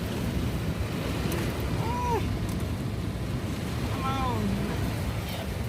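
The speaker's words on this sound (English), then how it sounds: "This does show it's pretty windy out here." Strong gusty wind roars steadily into the microphone during a rain storm with a tornado watch, a constant loud rush with faint whistling tones.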